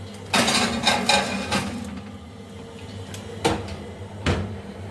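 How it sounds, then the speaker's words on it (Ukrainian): Pumpkin going into a preheated oven: a series of hollow metallic clunks and knocks from the oven door and rack, several sharp impacts spaced over a few seconds with a low hum in the background. "Духовка вже розігрілася беру і ставлю."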